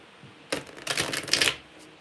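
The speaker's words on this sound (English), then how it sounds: "let's shuffle these real quick" A quick riffle of tarot cards being shuffled, a short burst of crisp flapping lasting about a second, close and clear.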